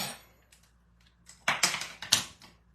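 Paper is cut for a handmade easel card in a Stampin' Up! craft project, giving a short run of four or five crisp, close snips after a quiet start.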